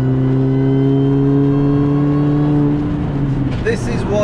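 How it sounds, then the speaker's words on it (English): A MINI Cooper S R53 accelerating, its supercharger whine and engine note rising steadily and loudly from inside the car, with a voice joining briefly near the end. "This is why you buy an R53, because of that supercharger sound."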